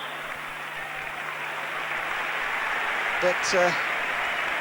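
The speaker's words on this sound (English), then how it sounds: "it gets the applause again" Crowd applause at an Old Trafford league football match, Manchester United against Southampton, a broad steady wash of clapping from a big stadium crowd under a commentator's voice.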